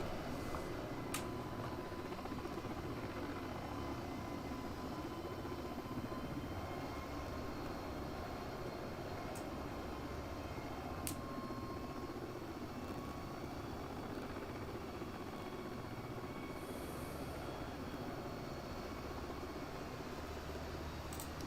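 A small tail-wheel airplane comes in to land, heard as a constant, fairly quiet drone of engine and rushing air with no clear change in pitch or rhythm.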